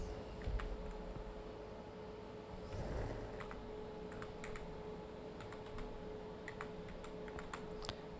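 Quiet typing on a computer keyboard while working in Excel, scattered light clicks and key taps spread across the stretch over a faint steady background hum.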